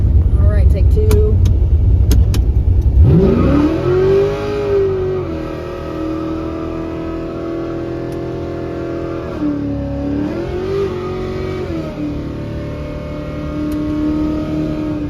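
Car with a newly fitted BTR Trinity intake being revved hard, its engine tone climbing and then settling as it shifts gears, loud and close, with a second rise and dip partway through. People talk over it during the test drive.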